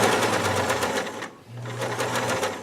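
A sewing machine stitches the edge of a skirt pocket in black thread, running in two steady motor bursts with a brief pause between them, close and loud.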